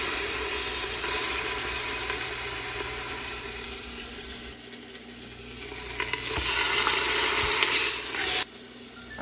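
Beef sears in a pan over medium-low heat with a loud, continuous sizzling hiss, close up, and a few faint clinks and shifts partway through.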